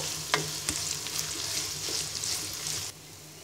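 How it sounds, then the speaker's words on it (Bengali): Chopped onions fry in hot soybean oil for a fish bhuna, a close hiss with a few scraping stirs, then the sizzle drops away abruptly near the end. "আধা কাপ পরিমাণ পেঁয়াজ কুচি দিয়ে দিব পেঁয়াজটাকে ব্রাউন কালার করে ভেজে নিব"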